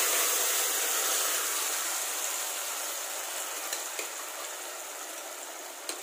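Cooked lentils hit a hot ghee tempering and set off a loud, steady hiss that fades only slightly over several seconds, with a couple of faint clinks.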